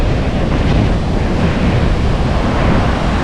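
Sea waves slap and wash against the bow of a small wooden boat in rough water, a loud continuous roar of surf mixed with heavy wind buffeting the microphone, with no voices.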